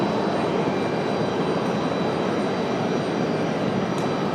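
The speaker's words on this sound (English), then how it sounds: "Dreamliner or A350? Which one?" A jet airliner, a Boeing 787 Dreamliner or Airbus A350, passing near Raleigh-Durham International Airport, its engine roar a steady, loud broadband rumble with no voices.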